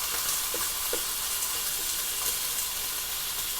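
Ham and eggs frying in oil in a single skillet, a loud, dense, continuous sizzle with small pops and splatters crackling throughout, with no voices.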